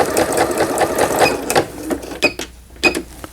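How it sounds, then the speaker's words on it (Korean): A Singer 7640 sewing machine under repair runs a zigzag stitch, loud close mechanical whirring in short bursts with clacking stops and restarts toward the end. "4번에 지그잭 바느질"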